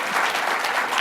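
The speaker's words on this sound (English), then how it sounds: "And that is an applause line." Audience applause after a line in a political speech at a campaign event against campus sexual assault, a steady, dense burst of clapping filling the whole moment at close range.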